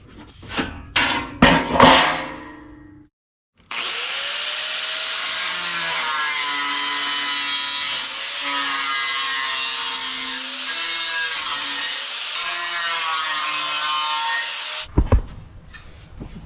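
Piece of rusted metal trimmed with a power saw: a few sharp knocks and handling, a brief gap, then a loud steady whine of the cutting tool for about eleven seconds that stops abruptly, followed by clatter.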